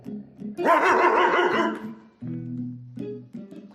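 A person growls and barks in a deep, rough voice, imitating a big angry dog, with a few loud bursts followed by lower rumbling.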